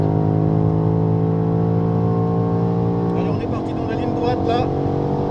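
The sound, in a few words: BMW X6M accelerating at full throttle on Dijon circuit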